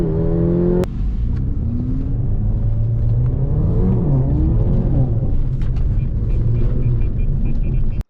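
A Mercedes-AMG CLA45 launches hard from a launch-control race start, its engine revving loud and close as the rising pitch climbs through the gears in a steady roar lasting several seconds.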